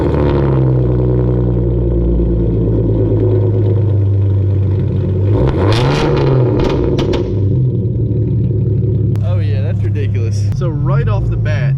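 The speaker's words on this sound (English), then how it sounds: "let's hear the first startup" A Hyundai Genesis Coupe 3.8 engine with aftermarket headers cranks and fires up, settling into a loud, deep, rumbling idle with a few revs, mixed with background talk.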